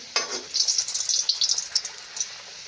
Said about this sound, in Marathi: घाऱ्या आपण आता घेणार आहे तळायला तेल पण छान गरम झालेलं आहे